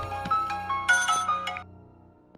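A melodic phone ringtone plays loud and close in a Hindi-dubbed South Indian movie scene, a bright repeating tune for about a second and a half before cutting off and fading, with no talking.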